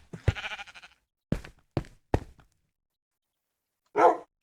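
A Minecraft Jeb sheep in a video game gives a few short bleats separated by silent pauses, each call clean and close, with one longer bleat near the end.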